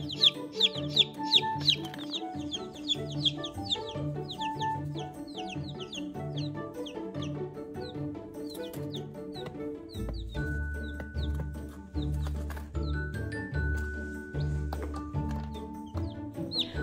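Two-day-old baby chicks peep and chirp in rapid high bursts, busiest at the start and thinning out, while a low hum and small handling clicks run underneath in the later part.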